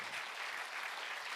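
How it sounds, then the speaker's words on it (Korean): A crowd gives a warm burst of dense, continuous clapping as an author is welcomed onto the stage at a talk event. The applause is brief and fairly distant. "여러분 뜨거운 박수로 맞이해 주십시오"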